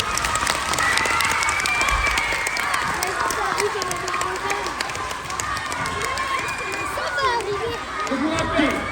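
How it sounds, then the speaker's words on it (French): A television game show studio audience breaks into sustained, lively applause for a schoolteacher contestant, a thick wash of clapping with cheers and voices carrying over it throughout. "on applaudit Madame Masson"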